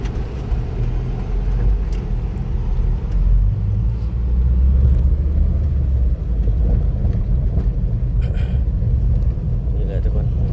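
A street traffic jam fills the scene with a steady, loud, close rumble of idling and creeping car engines that never lets up, with voices faintly present.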